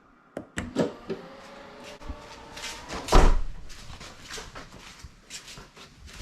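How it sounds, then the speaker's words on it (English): A BMW car door closing under power via its close-door button, with a series of mechanical clunks and thuds plus a whirring motor, capped by a solid latch thump midway, heard close up without speech. "So the only button that works is this close door button."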